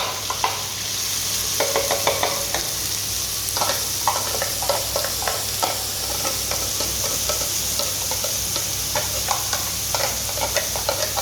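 A mashed paste of onion, ginger and green chili fries in already-hot oil for an onion and tamarind curry, with a continuous close sizzle broken by repeated scraping stirs throughout, and no talking.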